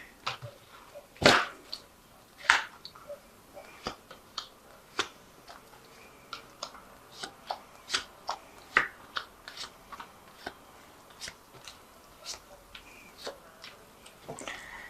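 Vikings Tarot cards are drawn and handled in a quiet room, making a scattered series of crisp snaps and light flicks at an uneven rhythm, a few sharper slaps standing out.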